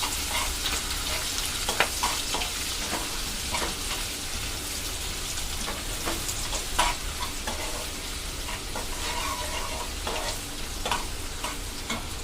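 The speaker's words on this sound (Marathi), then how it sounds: "कांदा घालून घ्यायचा आहे. कांदाही 2 मिनिटं परतूया." Onion sautés in a pan for egg and sausage fried rice, giving a constant, fairly loud sizzle with light stirring crackles throughout.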